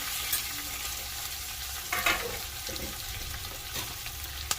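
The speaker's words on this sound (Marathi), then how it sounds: "आता आपण याच्यामध्ये कालथा फिरवणार आहोत। अगदी हळूहळू फिरवायचा।" Stuffed okra sizzles in a pan while a spatula slowly turns it after steaming, a steady close frying hiss with soft scraping strokes throughout.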